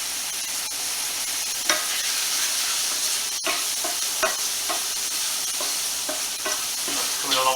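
Garlic fries in butter in a pan for steak Diane, a steady close sizzle with soft stirring scrapes and a few sharp clinks over the crackling.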